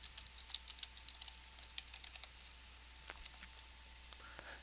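Quiet, close keystrokes tap out an irregular patter on a computer keyboard, alone over a faint steady background hum.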